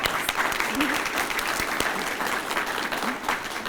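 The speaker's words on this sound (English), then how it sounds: "Let's give them a round of applause." An outdoor groundbreaking ceremony crowd for a Daytona State College building in Deltona applauds college trustees and the mayor, a steady wash of many hands clapping at moderate distance without pause.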